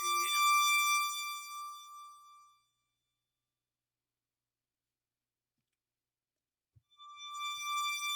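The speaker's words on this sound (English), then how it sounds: "And then we're going to add a stereo delay." Analog synth patch run through a stereo delay: a bright harmonic tone sounds, decays into a long silence, then returns as a delayed repeat near the end, with a soft click just before it and no talking.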